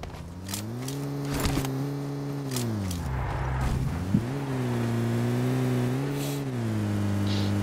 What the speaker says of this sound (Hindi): गाड़ी लेके जा रहा हूं, गाड़ी पे ही जा रहा।